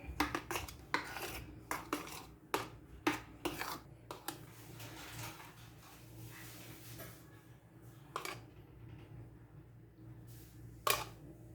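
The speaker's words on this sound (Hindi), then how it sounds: "इसको मिक्स करेंगे प्यूरी में थोड़ी सी क्रीम को।" A spoon mixes cream into mango puree for a mango mousse, clinking and scraping repeatedly against a bowl in a quick irregular rhythm, then thinning out to occasional knocks over a low steady hum, with no voices.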